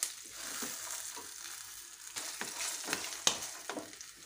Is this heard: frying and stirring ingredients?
yes